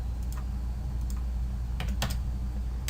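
A few crisp computer keyboard keystrokes ring out near and fairly quiet, including the number 6 and Enter typed while editing roof settings in Autodesk Revit, scattered irregularly over a steady low hum with nobody talking.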